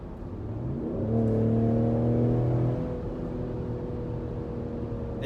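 A 2020 Ford Explorer ST AWD with a 400 hp engine accelerates, its engine note rising to a loud, steady drone before easing off, heard alone with no talk.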